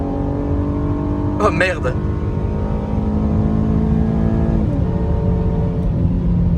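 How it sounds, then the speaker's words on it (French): An Audi RS7 engine surges under full-throttle kick-down, a loud steady rising drone with a rev shift partway through, heard from inside the car while a man exclaims over it. "si je mets un gros coup de gaz. Kick down."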